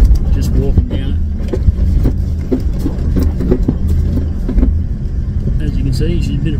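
Toyota 76 Series LandCruiser crawling down a rocky 4WD track in first gear low range, a steady low engine rumble with bumps and knocks from the rocks, voices talking over it throughout.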